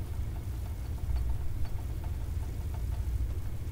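A DHC-2 Beaver aircraft engine idles in a flight simulator game, a steady low rumbling drone with a slight rhythmic knock, no voices.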